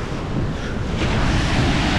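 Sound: ocean waves on beach

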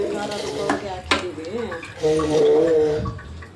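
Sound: stirring egg chicken sambar in pot

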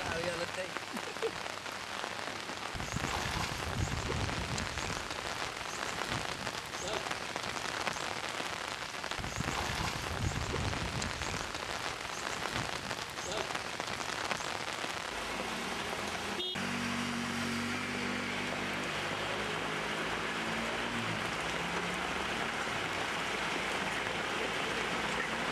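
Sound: rain falling

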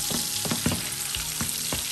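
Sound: koi fish frying in oil

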